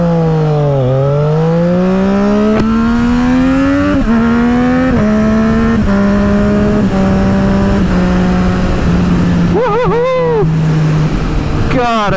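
Triumph Speed Triple motorcycle engine revving steadily close by, its pitch climbing and settling through a long sustained run, with a brief sharper burst near the end and a voice talking over it.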